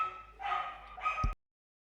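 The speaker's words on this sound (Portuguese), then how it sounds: "Deixa eu ver pra que eles estão latindo." Dogs let out two short barks, fairly close and clear, with a quick pause between them before the sound cuts off.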